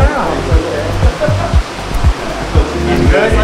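Water flows into a cave in a steady, close rushing wash, with soft low thumps recurring underneath.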